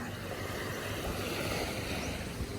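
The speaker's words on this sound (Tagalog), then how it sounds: "Sa malaking bangka." Large boat travelling at sea off Caluya, Antique, a steady broadband rush of water and hull noise with wind buffeting the microphone, continuous and fairly loud.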